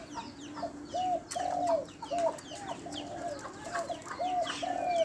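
Decoy spotted dove cooing in a steady repeated pattern of soft, hollow notes, moderately close, with other birds chirping faintly in the background.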